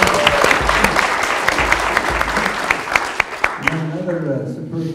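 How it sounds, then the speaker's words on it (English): Audience applause at a jazz concert, a dense burst of clapping with a few sharper claps standing out, fading as a voice begins talking near the end. "So let's give a nice round of applause."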